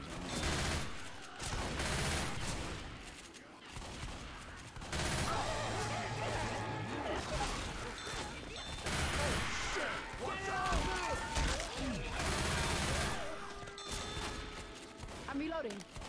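Shotgun blasts ring out in the zombie shooter Left 4 Dead 2, a series of loud bursty shots over a busy, chaotic game soundscape with other clatter and crashes mixed in.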